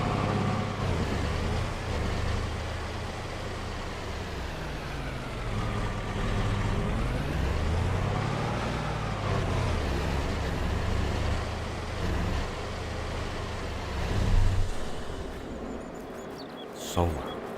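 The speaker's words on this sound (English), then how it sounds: "I don't think this truck would be this loud in real life." A loud, steady truck engine drones throughout a Farming Simulator 22 session, continuous and close, with a brief hiss near the end.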